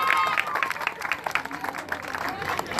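A crowd at an outdoor children's museum festival claps in brief, scattered applause, mixed with voices and crowd noise.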